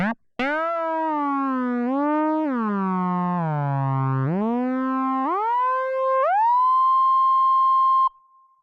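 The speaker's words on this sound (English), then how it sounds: "this fabulous spring reverb unit we've got in here" An analogue synth tone from a Korg miniKORG 700Sm slides and bends through rising and falling pitch sweeps, with its built-in spring reverb, then holds a steady note before cutting off abruptly.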